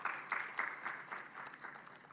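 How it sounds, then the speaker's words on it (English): Soft, distant applause crackles steadily from a crowd at a press conference, a faint continuous patter of many hands with no voices over it. "let us have another round of applause for our board member"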